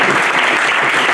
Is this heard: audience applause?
yes